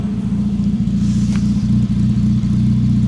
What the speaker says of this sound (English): So at the moment we're idling at 850 RPM